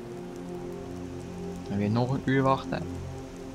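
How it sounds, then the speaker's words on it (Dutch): Steady rainfall in the video game Skyrim, a constant soft patter behind someone speaking briefly in Dutch. "Na 10 uur regent het nog steeds."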